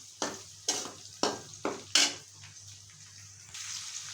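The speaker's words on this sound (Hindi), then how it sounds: "इसको भी थोड़ा फ्राई करेंगे मसाले को" Whole spices such as cinnamon stick and bay leaves fry in hot oil for chana pulao, with a series of five sharp scraping stirs over a low sizzle, then a softer steady fry.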